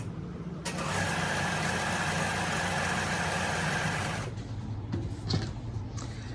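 A sewing machine stitches a quilt block piece with a steady, close motor whir that runs for nearly four seconds, then stops, leaving faint handling noises and a small knock.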